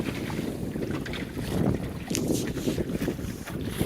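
A strong gust of wind hits a small Welsford Navigator sailboat sailing double-reefed in high wind, roaring in buffeting surges of wind noise against the microphone over the rush of water along the hull.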